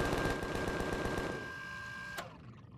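Rapid, steady automatic gunfire blasting at spiders in the survival game Empyrion, a dense mechanical rattle with a tonal whine that stops abruptly near the end, leaving a faint hum.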